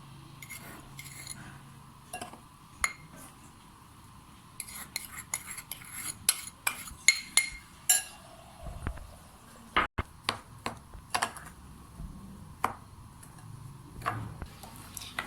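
A spoon beats butter and sugar together in a bowl for a homemade cake, giving sparse clinks and scraping taps against the bowl, irregular and close, louder in short bursts through the middle.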